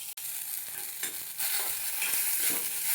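Cluster beans (gavar) dry-roasting in a pan, giving a steady, close hiss and crackle with intermittent scraping as they are stirred and tossed.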